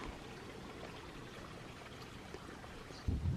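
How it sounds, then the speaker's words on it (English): Quiet, continuous babble of water running through a spring-fed stream in Guadalupe Mountains National Park, soft and steady, with a brief louder low thump near the end. "the sound of the water running through this area"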